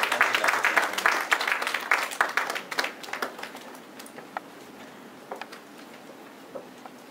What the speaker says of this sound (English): Shall we please welcome her with a round of applause?